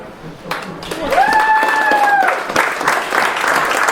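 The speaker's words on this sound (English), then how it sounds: "Keep it going if you've had your colonoscopy." An audience at an American Legion hall show applauds loudly, with a sustained rush of clapping and a whistle or cheer rising over it partway through.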